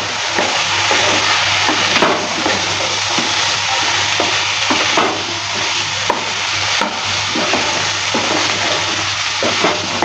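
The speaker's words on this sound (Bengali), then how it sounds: "সয়াবিনটা দেওয়ার পর ভালো করে আবারও নেড়ে চেড়ে নিচ্ছি।" Soya chunks with ol kochu (elephant foot yam) are stirred in a pan, giving a steady loud sizzle and crackle of frying along with periodic scraping and clatter from the spatula, with no voices.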